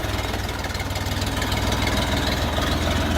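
A Xingtai 244 mini tractor's three-cylinder KM385 diesel engine idles steadily up close, a low, rhythmic knocking chug with a constant throbbing pulse and no voices.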